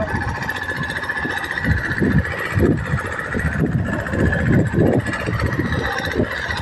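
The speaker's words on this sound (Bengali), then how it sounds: "মালবাহী ট্রলার এখানে আছে" A river cargo trawler's engine rumbles low and steadily close by, a throbbing drone that rises and falls slightly.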